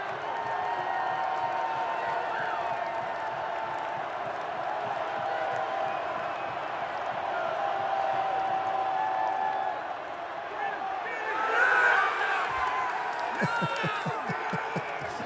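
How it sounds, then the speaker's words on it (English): Stadium crowd at a Detroit Lions football game, a broad, steady roar of many voices that swells into louder cheering near the end, heard from within the stands. "whenever they put him on camera, the crowd goes crazy"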